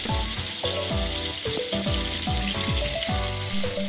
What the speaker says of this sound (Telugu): ఇప్పుడు బాగా మిక్స్ చేసుకొని కరివేపాకు వేసి వేయించుకోండి